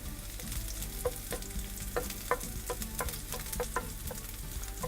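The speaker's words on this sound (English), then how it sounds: "putting pepper and garlic into the chili, into the oil" Garlic and chili pepper frying in hot oil in a pan, a steady bright sizzle with scattered small pops and crackles throughout, close and continuous.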